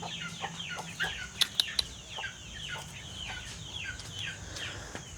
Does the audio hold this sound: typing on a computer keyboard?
no